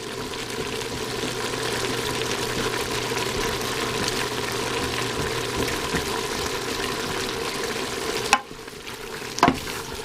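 Anchovies are mashed and fry in a little oil in a pan for homemade pasta sauce. A steady sizzle runs under scraping and stirring, then two sharp utensil knocks come near the end.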